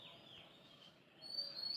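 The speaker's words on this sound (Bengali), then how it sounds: "সকাল সকাল উঠে এইরকম পাখির কিচিরমিচির ডাক শুনতে কিন্তু আমার অনেক ভালো লাগে।" Birds chirping faintly on an early village morning, thin high calls over a quiet background with no voices.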